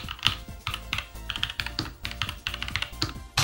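Fast, continuous typing on a 75% mechanical keyboard: dense, clacky keystrokes in quick bursts, close up and fairly loud, with no voices.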